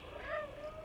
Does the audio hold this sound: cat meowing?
yes